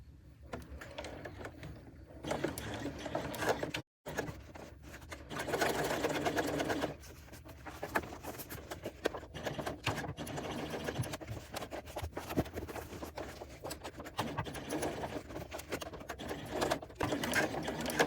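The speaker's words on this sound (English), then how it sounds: "now I am going to sew the entire base at 3/8 of an inch" A sewing machine stitches the full base of a small bucket bag at a 3/8-inch seam allowance, running in steady, close whirring bursts with a brief stop early on, then humming continuously.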